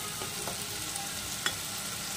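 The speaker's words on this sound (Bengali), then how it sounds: "কষিয়ে নিতে হবে যত সময় মশলা থেকে তেল না ছাড়ছে।" Spices frying in oil for a potato and soybean curry, a steady faint sizzle with a few soft stirring taps, close and without talk.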